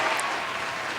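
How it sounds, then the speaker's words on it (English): A canned round of applause fired from a soundboard button on a hip-hop podcast, a steady, dense wash of clapping and crowd cheer filling the whole second without any talk. "I'm going to hit the round of applause button for 42 Doug"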